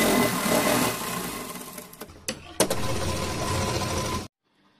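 A sewing machine runs steadily while stitching a Laddu Gopal dress to its lining, a continuous whirring drone that pauses briefly with a few clicks, then resumes before stopping abruptly.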